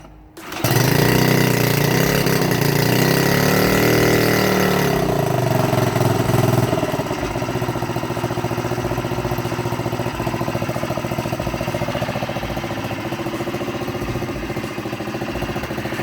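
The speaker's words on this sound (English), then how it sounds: "since this engine is actually air-cooled, it's quite loud" A Honda BF2.3 air-cooled outboard motor runs loud and steady close by, a harsh mechanical drone that holds constant after a brief higher-revving start.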